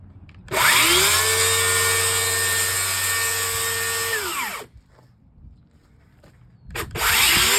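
A power saw cutting wood for a Pac-Man arcade cabinet build whines loudly for about four seconds and spins down. Quiet shuffling and handling noises follow before the motor starts up again.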